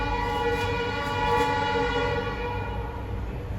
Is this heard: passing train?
yes